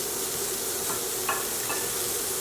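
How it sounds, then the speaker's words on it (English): Onions hitting a hot oiled pan for a veggie stir fry, a steady faint broadband sizzle with a couple of soft stirring clicks, no talking. "So we want to hear that little sizzle when we add the onions."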